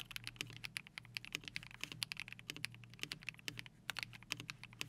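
Rapid, crisp keystrokes clack on a budget custom mechanical keyboard in an uneven typing rhythm, close and clear with no talking.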